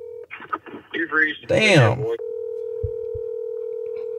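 A phone placing a call through a voice assistant gives a steady, even dial tone lasting a couple of seconds, following some close speech and a short spoken exclamation, with a few faint low thumps underneath.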